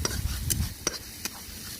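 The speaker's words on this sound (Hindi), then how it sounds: "लहसुन को अच्छा से थोड़ा लाल करना है।" A spoon stirs garlic frying in a pan with ground onion for a village-style prawn malai curry, giving several quick scrapes and clicks over a soft, close sizzle.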